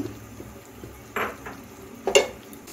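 Mixed vegetables being stirred in a pan with a little water, two distinct scraping clatters of a spoon against metal over a quiet simmer.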